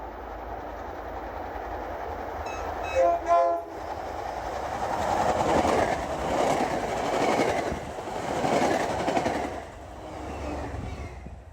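A train rumbles past nearby on a shared MBTA and CSX line, sounding a short horn blast before the steady roar and clatter of wheels on track swells and lingers.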